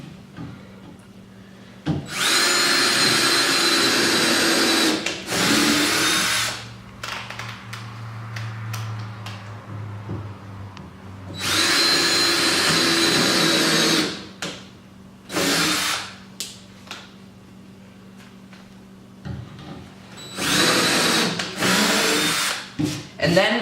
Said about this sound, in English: next, what we do is we want to drill our pilot holes again